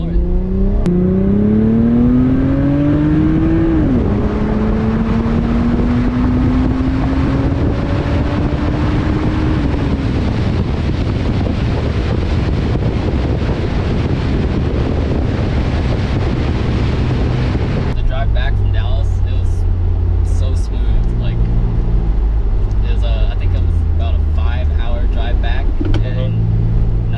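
A JDM Mk4 Toyota Supra accelerates at full throttle, its engine note climbing hard through the revs with a sharp gear-change drop partway, then a deep roaring drone, heard from inside the car with wind and road rush.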